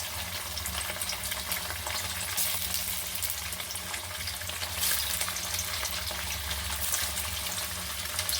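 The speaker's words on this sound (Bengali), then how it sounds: "কড়াইয়ে তেল দিয়ে দিচ্ছি পনিরটা ভাজার জন্যে" Paneer fries in hot oil in a wok, a continuous loud sizzle and bubbling crackle that holds steady at close range, with some stirring mixed in.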